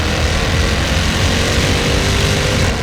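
A Jaguar F-Type sports car engine drones loud and close, a steady guttural low rumble holding at an even pitch with no voices over it.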